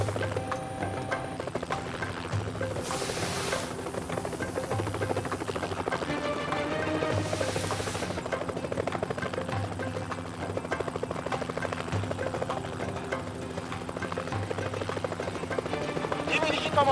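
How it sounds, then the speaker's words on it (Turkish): A helicopter's rotor thumps in a steady rhythmic chop, loud and close, with mechanical whine and occasional radio-like voices under it. "Helikopter bölgeden ayrılıyor."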